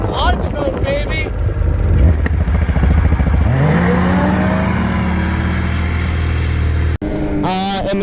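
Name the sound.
Ski-Doo Mach Z snowmobile accelerating with launch control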